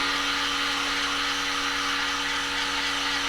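A hot air gun runs steadily at close range, drying a wax finish on a colour-treated piece, with a constant whirring blower hiss and a steady motor hum through the short stretch.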